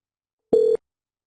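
A Cisco desk phone sounds a single short steady call tone, close and clean, lasting about a quarter second against silence.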